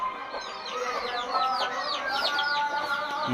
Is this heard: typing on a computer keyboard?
no